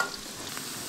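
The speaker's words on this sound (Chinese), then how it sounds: "先把这个炸出香味之后" Spices frying in hot oil in a home kitchen for a chili pickle sauce, a steady soft sizzle with light stirring, close and fairly quiet, no voices.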